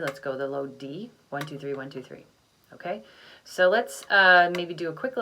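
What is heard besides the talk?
No everyday noises stand out.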